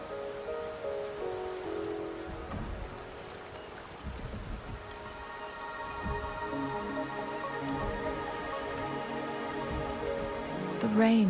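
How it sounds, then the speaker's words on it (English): Rain falling steadily in the video game Wuthering Waves, a soft continuous patter with a faint trickle, layered under a sustained tonal music bed that rises near the end. "The rain is subsiding, and the sky will soon clear."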